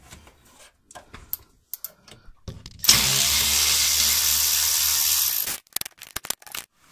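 A power tool loosens bolts on a rear differential cover, one loud continuous whirring burst of about three seconds amid scattered clicks and clanks of nearby work.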